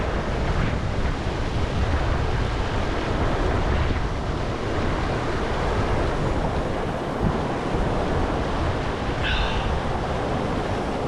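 A flowing mountain stream in the Colorado wilderness, its water rushing in a steady, loud broadband roar with some wind buffeting the microphone, continuous and free of talk.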